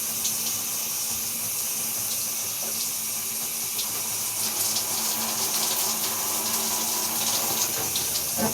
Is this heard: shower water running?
yes